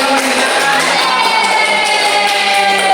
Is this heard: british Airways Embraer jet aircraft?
no